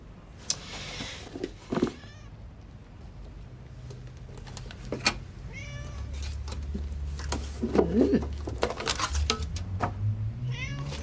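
A sick kitten meows repeatedly in a domestic setting, with short, high, wavering cries scattered across the stretch, some strained and overlapping, close and fairly loud above a low hum and faint background murmur.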